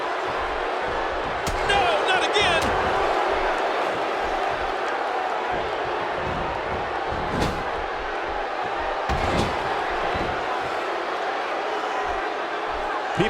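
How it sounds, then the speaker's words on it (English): Wrestling arena crowd at an NXT match in WWE 2K16, a dense, loud roar of cheering that holds steady throughout, broken by a few sharp slams and impacts. "by the sound of this crowd, I think they're getting what they wanted"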